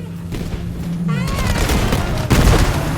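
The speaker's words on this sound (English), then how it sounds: "They're shooting at us!" Gunfire and booming explosions from a Borderlands 3 vehicle battle, a steady dense barrage that stays loud throughout with a heavier blast near the end.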